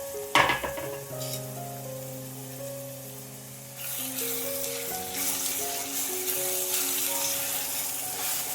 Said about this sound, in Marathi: आता हा कांदा हलक्या हाताने परतायचा जोपर्यंत मऊ आणि गुलाबी होत नाही तोपर्यंत हा कांदा छान परतून घ्यायचा